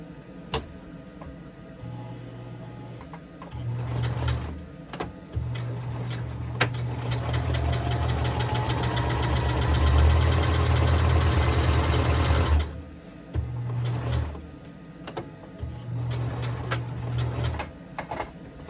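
A sewing machine stitches fabric for a plant grow bag in short bursts of rapid mechanical whirring, with one long steady run in the middle and brief pauses between runs.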